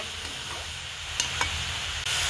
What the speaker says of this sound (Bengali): আর নারকেল নাড়ু তৈরি করলে কিন্তু অনবরত নাড়তেই থাকতে হবে, থামলে চলবে না